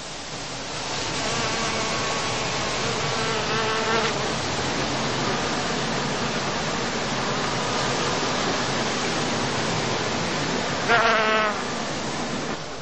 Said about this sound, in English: In good weather, the bees now find plenty of pollen and nectar in the blossoms of Calluna vulgaris